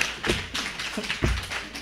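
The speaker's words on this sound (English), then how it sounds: "You can clap, it's okay, that's fine" Audience at a falls-prevention health talk clapping briefly, a short patter of several taps and claps close by, fairly quiet and alone.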